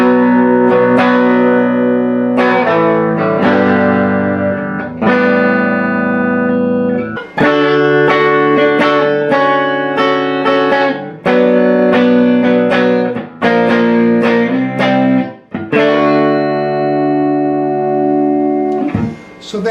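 An electric guitar plays the outro of a song, ending on a D after a C, with loud strummed and picked chords through effects, phrases separated by brief gaps and a final sustained ring.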